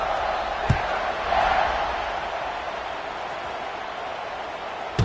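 Stadium crowd noise from the College Football 26 video game, a steady broad roar with a brief swell near the start and a couple of short thumps, continuous throughout.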